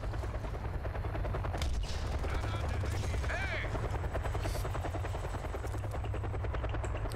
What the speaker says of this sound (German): Aber ich weiß nicht genau, wie der Helikopter funktioniert